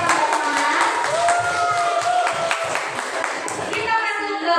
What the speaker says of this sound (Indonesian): tepuk tangan dulu kita semua supaya kita pada semangat